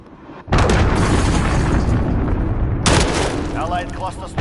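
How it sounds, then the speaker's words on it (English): A cruise missile strike in a PS4 shooter lands as a loud, close blast, a roaring burst that sustains for a couple of seconds, then a second heavy boom follows with faint game voice chatter underneath. "Enemy cruise missile."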